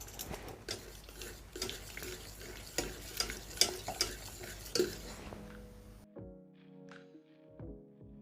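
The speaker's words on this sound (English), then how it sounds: "We will add our syrup little by little and whisk it properly." Syrup being whisked into a Turkish lokum mixture in a pot; quick rhythmic whisk strokes and scraping against metal for several seconds, then the stirring stops and a faint electronic tone plays.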